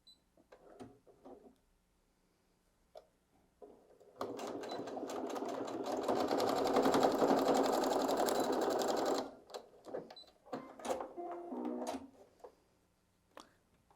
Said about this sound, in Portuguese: vou passar uma nova costura com um pé de máquina